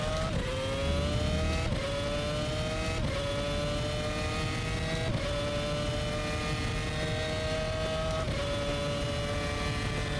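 Race car engine in the rFactor sim racing game, revving up through the gears in a repeating pattern of rising pitch and abrupt drops at each shift, steady and alone with no talk.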